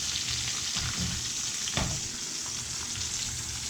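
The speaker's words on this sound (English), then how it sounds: "So now that sausage is browning," Sausage browns in a pan for shrimp and grits, giving a steady moderate sizzle with a few soft scrapes and clinks from stirring, and no talking.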